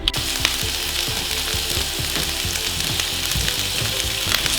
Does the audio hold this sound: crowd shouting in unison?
no